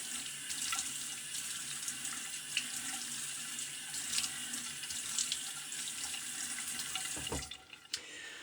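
A bathroom tap runs steadily as water wets the face before a shave, a continuous close splashing stream for most of the span that cuts off near the end with a brief final splash.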